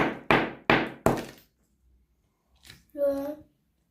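Ice encasing toy cars is struck four times in quick succession, each a sharp loud crack with a short ring-off, followed by a quiet pause and a brief voice.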